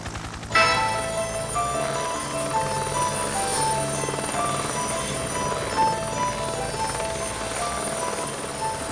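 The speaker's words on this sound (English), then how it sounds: "The helicopters called to assist in the search for 3 men" Police helicopter flying overhead during a search for burglary suspects, a loud steady rotor thrum and turbine whine that starts abruptly and continues evenly.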